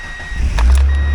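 A 2000 Mazda Miata with an automatic transmission idles steadily after a cold overnight start, giving a close, continuous low engine hum over a short stretch.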